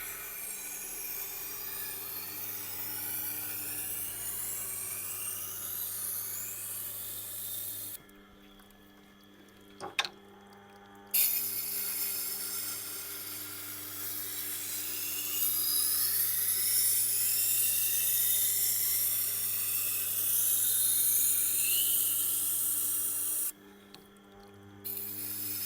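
A Global kitchen knife sharpened on a turning Tormek Blackstone wheel: a steady grinding whir with a low motor hum, broken by two short pauses between passes, close and fairly loud.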